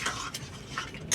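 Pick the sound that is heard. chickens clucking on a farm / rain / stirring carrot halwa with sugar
stirring carrot halwa with sugar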